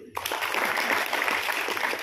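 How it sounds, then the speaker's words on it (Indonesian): A seminar audience in Bandung breaks into dense, sustained applause after a brief quiet start, a crowd of many hands clapping steadily and fairly close. "Tepuk tangan dulu."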